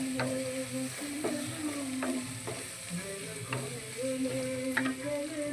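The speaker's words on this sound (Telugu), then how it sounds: "అల్లం వెల్లిగడ్డ వేసిన ఇది కొద్దిగా పచ్చివాసన పోయిందాక" Ginger and garlic sizzle steadily in a pan for a chutney, with periodic scraping and stirring strokes from a utensil over the continuous frying hiss.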